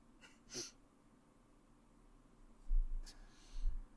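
A single quick sneeze in a quiet room, followed by soft breathing and faint rustling.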